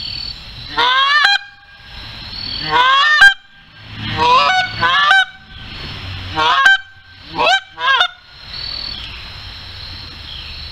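A hunter blows a goose call in a honking cadence meant for incoming geese: loud bursts of reedy honks and clucks in several quick groups separated by short pauses, close up and with no talk. This is a human imitation of the bird.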